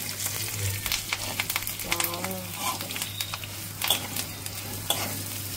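Curry leaves and potato pieces sizzling in hot oil in a pan, a dense crackling hiss with occasional stirring scrapes and a brief pitched squeak, nobody talking.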